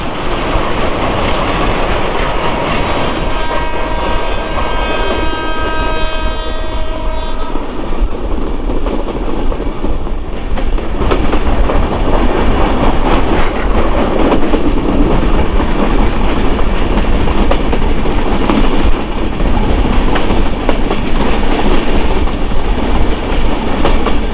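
Madhumati Express rolling into the platform at Kalukhali Junction: loud, continuous clickety-clack of wheels over rail joints and carriage rumble, with a brief squeal of wheels early on, no voices.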